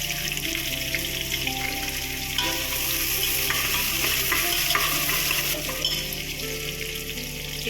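Onions sizzle and crackle steadily in a hot pan while a spoon stirs and scrapes through them, close and continuous with no voices.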